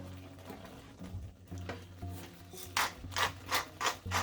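A pepper grinder cranks over thick sausage gravy, giving a series of dry rasping grinds that become louder, rhythmic bursts toward the end.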